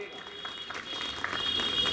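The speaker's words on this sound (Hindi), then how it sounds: "उनका भी जोरदार तालियों से स्वागत कीजिएगा" An audience at a CPWD New Year get-together ceremony breaks into applause, a soft patter of clapping that swells over two seconds while a voice carries on faintly underneath.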